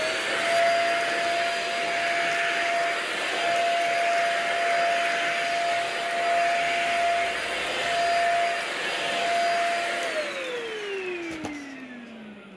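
A vacuum cleaner runs with a strained, whistling whine as if clogged, a steady loud drone that winds down in pitch as it is switched off near the end, with no talk.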